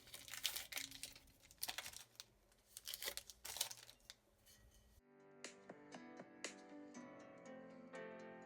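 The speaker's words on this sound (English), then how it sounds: "So let's remove the paper and see what we have." Sublimation paper peeled off freshly pressed water bottle tumblers after heating in a mini oven gives close, loud crinkling and tearing bursts, followed by lighter scattered rustles and clicks.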